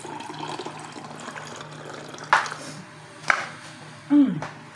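Water is poured into a container bought at a shopping mall, making a soft continuous trickle with a few sharper splashes and clinks toward the end, close by and moderately quiet.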